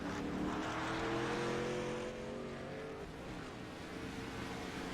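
A race car rolls down pit road at a Texas track, its engine a steady, fairly close drone with a tonal whine that eases off partway through, with no talk over it.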